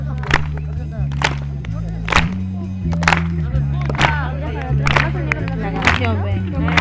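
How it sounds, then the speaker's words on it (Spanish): An audience clapping in time to music at a youth bonfire gathering, sharp regular claps on the beat over a steady bass-heavy backing track, with crowd voices faintly mixed in. "acompaña con sus palmas"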